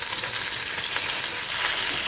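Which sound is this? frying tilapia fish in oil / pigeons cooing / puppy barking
frying tilapia fish in oil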